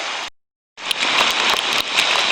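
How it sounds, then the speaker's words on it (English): Light rain falling steadily at Pelorus River Scenic Reserve, a dense close hiss with scattered drop patters, briefly cutting out before resuming. "a little bit of rain coming"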